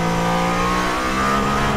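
A Mercedes-AMG ONE in street mode accelerates hard on the Nürburgring with cold tyres, heard from close by as a loud, continuous engine roar that climbs in pitch over a short burst.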